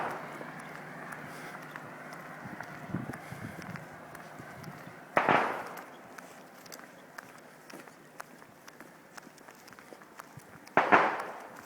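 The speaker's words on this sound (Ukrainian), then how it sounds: "Це зараз ми чуємо постріли." Two sharp, distant gunshots fired for a fallen soldier in Donbas ring out several seconds apart, each echoing briefly over a low, rumbling background with faint voices.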